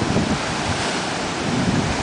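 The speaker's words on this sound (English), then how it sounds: "The waves are huge." Large ocean waves at Playa Las Penas, Mexico, produce a continuous loud roar of surf against rocky shore, heavy with wind buffeting the microphone and no clear break between surges.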